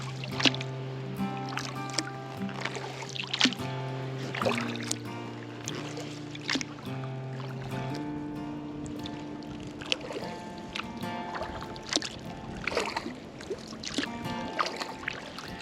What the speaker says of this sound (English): We're paddling close to one of the big bridges here at Lake Barclay